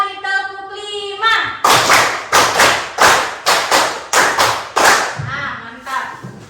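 A classroom group claps along in a counted routine, roughly nine loud unison claps in a steady rhythm, with someone speaking just before and as the claps fade.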